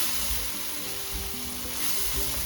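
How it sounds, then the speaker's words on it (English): Chili powder fries in hot oil with a splash of water while making dhal with kale, giving a loud, steady sizzle with occasional stirring scrapes and no voices. "Just a little bit so that the chili powder can cook without burning."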